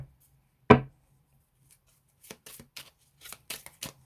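Oracle cards are shuffled at close range: one sharp riffle snap, then a pause, then a run of quick light card flicks and slides, quiet with no talk.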